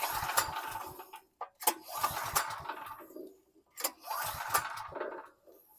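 A Briggs & Stratton engine on a Toro mower is pulled with the recoil starter several times, each pull giving a short rattling, mechanical whir in separate bursts with pauses between, and no start.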